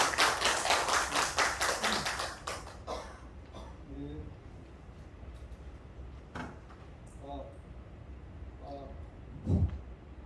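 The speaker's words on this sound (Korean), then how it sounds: "큰 박수로 맞이해주세요." An audience at a parent-education lecture in a cultural center claps briefly to welcome the lecturer, a short burst of applause that fades quickly into quiet room noise with scattered taps and small movements.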